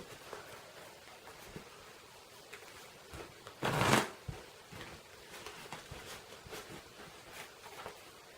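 A deck of playing cards being shuffled for a magic trick, a brief riffling flutter that swells to one short burst amid quiet handling rustles.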